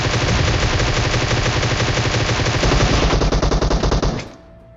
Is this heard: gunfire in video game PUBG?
yes